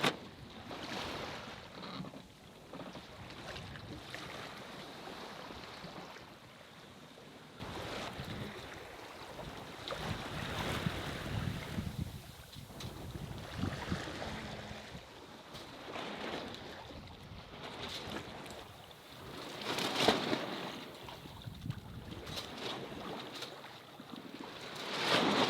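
A sailboat running under a new spinnaker at sea with the engine off, giving steady wind rush, microphone buffeting and the wash of waves along the hull, rising and falling in gusts without any motor noise.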